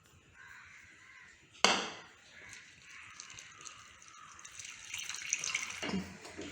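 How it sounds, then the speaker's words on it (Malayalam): Water is poured into fine rice flour in a bowl and stirred by hand to make appam batter, a splash near the start followed by steady close-up sloshing and swishing, with crows cawing faintly in the background. "ആദ്യം ഇതിലോട്ട് കുറച്ച് വെള്ളം ഒഴിച്ച് ഇതൊന്ന് നന്നായിട്ട് മിക്സ് ചെയ്തെടുക്കാം."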